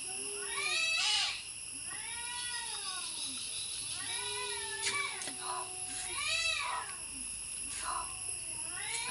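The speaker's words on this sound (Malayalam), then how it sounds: "പൂച്ചാള് കരയുന്നുണ്ട് അവിടുന്ന്" Several cats meow repeatedly from a short distance in an outdoor spot beside a stream where river fish are being cleaned and cooked. The cries are drawn out and rising, coming in clusters with brief gaps between them.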